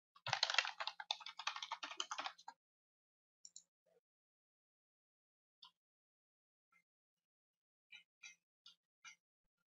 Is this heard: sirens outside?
no